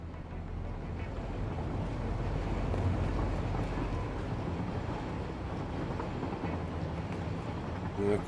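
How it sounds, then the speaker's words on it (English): Two trains pulling into a station in the game Satisfactory, a low rumbling drone with mechanical clatter building and holding steady throughout, a brief chirp near the end. "There you go, it's actually 2 trains coming in."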